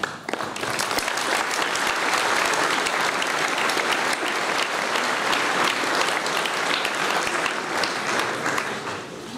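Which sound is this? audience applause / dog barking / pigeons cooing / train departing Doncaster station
audience applause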